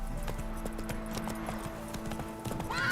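Hooves of the horse Roach clip-clopping at a quick gallop in the video game The Witcher 3, a steady rhythmic beat over a background game music bed.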